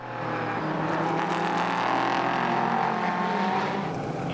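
A race car in the 2019 Barcelona round spins across the gravel trap toward the tyre wall, its engine a loud steady roar with tire and gravel noise, sustained and close, no voices.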